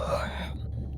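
A soft, breathy yawn from a character in the video game Beyond Blue, brief and close, trailing off into quiet within a second.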